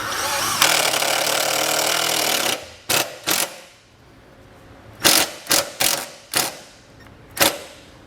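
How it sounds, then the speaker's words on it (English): A ratchet drives a self-tapping screw through a ring terminal into a 2021 Chevrolet Spark's frame rail: a long loud rasping run, then several short, sharp clicking bursts spaced apart, close up. "grab the provided self-tapping screw and fasten this ring terminal"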